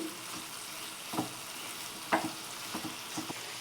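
Tomatoes fry in a pan with a steady soft hiss, broken by a few short scraping knocks as they are stirred, fairly close and moderately quiet, with no voices.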